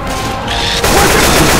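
Gunfire in Left 4 Dead 2, a loud burst of rapid game shots and crashing impacts kicking in partway through, dense and close.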